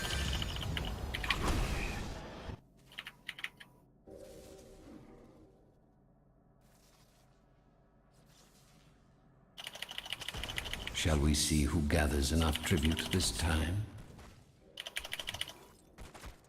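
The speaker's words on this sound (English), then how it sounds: "What are you typing?" Rapid computer keyboard typing while spamming abilities in an online multiplayer game, heard in busy bursts alongside loud game sound effects and a voice speaking.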